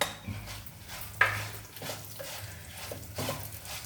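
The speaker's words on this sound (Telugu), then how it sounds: "ఇప్పుడు నువ్వులు వేస్తున్నానండి." Sesame seeds tipped into a pan of hot tempering with chana dal and urad dal, giving a soft crackle and a sharp clink near the start, then low sizzling and a few light utensil taps, quiet and close.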